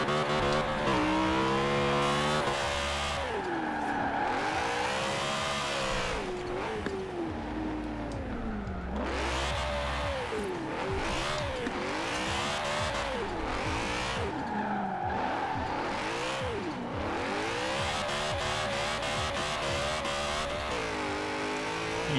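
BMW Z4 drift build in Forza Horizon 4 revs hard and repeatedly, its engine note swooping up and down with tire squeal, loud and close with no talking.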